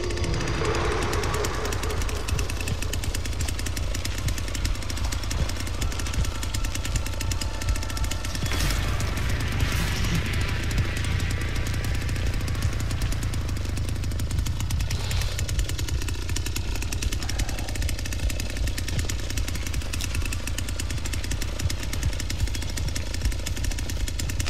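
A chainsaw in The Texas Chain Saw Massacre game on Xbox Series X, roaring and rattling continuously and loudly throughout, with brief bursts of harsher revving partway through.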